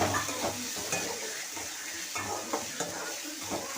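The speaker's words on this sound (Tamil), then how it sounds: "தக்காளி வந்து நல்லா வதங்கணும் ஃப்ரெண்ட்ஸ்" Tomatoes sautéing in a pan for a spicy Tamil sundakkai curry, a continuous close sizzle with scraping stirs of a spoon against the pan, no talking.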